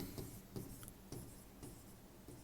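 Pen or marker strokes on a board during a class 9 maths lesson, coming as quiet rhythmic scratchy squeaks about every half second, close and alone with no voice.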